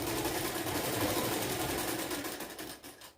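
A sewing machine stitching a ruffled tote bag runs steadily with fast, even mechanical chatter, close and continuous, then slows and stops near the end.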